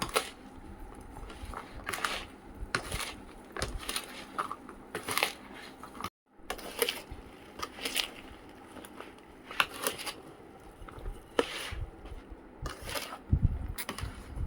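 Chili powder and spices being mixed for mango pickle, with a steady run of gritty scraping and crunchy stirring strokes close by, briefly pausing partway through before carrying on.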